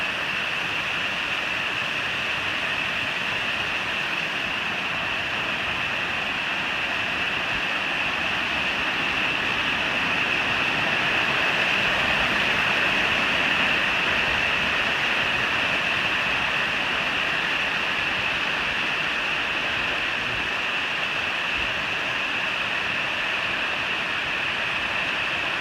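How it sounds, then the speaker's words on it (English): A cascading waterfall along the Appalachian Trail gives a steady, loud, unbroken rush of water, with no voices. "Looking like a cascading waterfall to brighten your afternoon"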